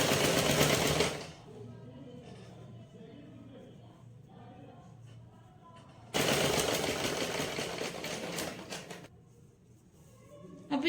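A sewing machine stitching a sleeveless kids' frock runs in two loud whirring bursts, the first brief and the second several seconds long, separated by a quieter stretch where the machine sits idle with faint handling.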